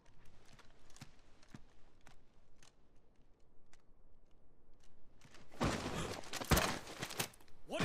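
A steed's hooves clip-clop in Final Fantasy XVI, sparse sharp taps at first, then a denser, louder burst of clattering knocks toward the end.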